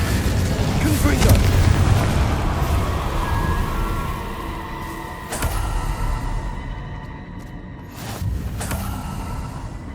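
A Confringo fire-blast spell explodes in the Hogwarts Legacy video game, with loud booming bursts near 1, 5.5 and 8 seconds over dense rumbling game sound.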